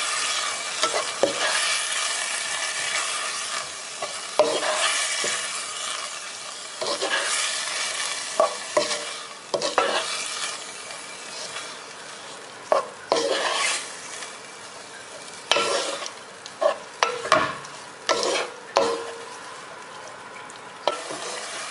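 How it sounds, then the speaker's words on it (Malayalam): A spoon stirs rice in coconut milk in a pan over high flame for Kerala-style coconut rice, giving continuous scraping and sizzling with frequent sharp clinks of utensil against pan, close and steady with no talking. "നല്ല ഹൈ ഫ്ലെയിമിൽ ഇട്ട് വേണം ഇത് മിക്സ് ചെയ്യാൻ."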